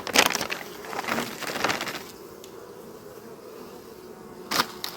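Honey bees buzz around beehives in an apiary after overwintering, a low hum with a few louder close-by bursts, no voices.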